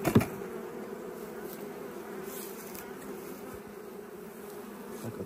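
Honeybees buzz steadily at an opened hive during a spring inspection, a constant close drone that stays even throughout after a brief knock at the start.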